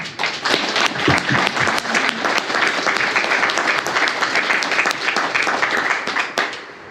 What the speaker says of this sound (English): I'd like another round of applause for the owners and operators of Cass Park